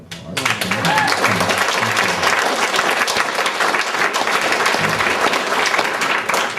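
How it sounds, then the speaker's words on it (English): Dinner audience applauding a senator at a Democrats' Jefferson-Jackson dinner, loud sustained clapping from a full room that starts abruptly and holds steady throughout. "Yeah, that's worthy of an applause."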